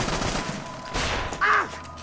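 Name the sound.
sniper gunshot in Assassin's Creed: Rogue video game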